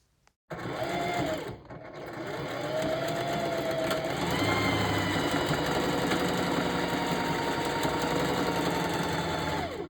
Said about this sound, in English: Now we are going to sew the second track onto the wig cap following your guidelines